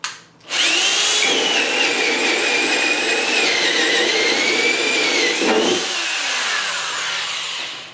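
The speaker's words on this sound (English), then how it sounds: "I have a 1 1/8 inch hole saw" A small Black & Decker 3/8-inch cordless drill whines loudly as a 1 1/8-inch hole saw bites into wood, a sustained grinding cut that shifts pitch under load before spinning down.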